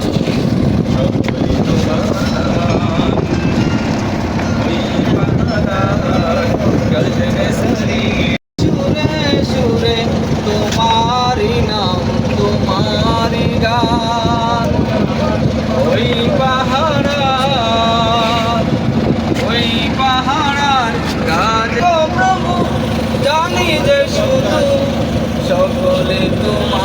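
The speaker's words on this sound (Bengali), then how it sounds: "এখন আবার ট্রলার ভবন বা নৌকা ভবনে আমরা যাত্রা শুরু করলাম" Trawler boat engine droning steadily on a lake journey among hills at Rangamati, a constant loud rumble with wind noise over the mic and people talking throughout.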